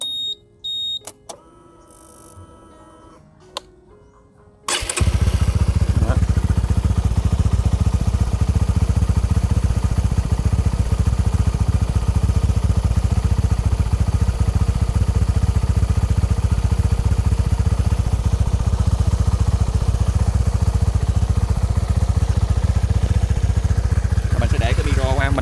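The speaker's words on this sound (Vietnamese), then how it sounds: "bây giờ mình sẽ nổ máy lên ha, các bạn nghe được cái tiếng động cơ sau khi mà thay cái tăng cam Attila cho" Honda Winner X motorcycle engine, about 58,000 km old, starts after a few seconds of quiet handling noise and then idles steadily and loudly with the microphone close to the crankcase after a cam chain tensioner replacement.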